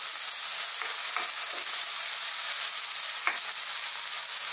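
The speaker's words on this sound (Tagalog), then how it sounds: "So lutuin lang natin ng konti yung ating kamatis." Tomatoes fry in a pan for chicken heart adobo, giving a dense steady hiss of sizzling oil with a few soft stirring scrapes, close and continuous with no talking.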